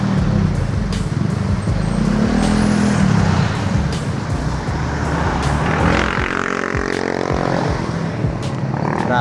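Loud, close road traffic rumbles along Dacudao Avenue beside a culvert installation site, with engines passing continuously and a vehicle accelerating partway through.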